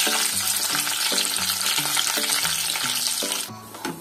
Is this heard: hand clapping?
no